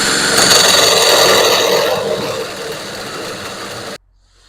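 A hole saw bores the larger bottom hood pin hole through the hood of a Jeep XJ, giving a loud, steady grinding whine that eases slightly partway through and then cuts off abruptly near the end.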